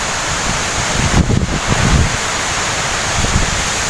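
Strong typhoon wind gusts roar steadily through palm fronds and trees in Borongan City, Eastern Samar, a dense, loud broadband rush with heavier buffeting surges near the microphone and no speech.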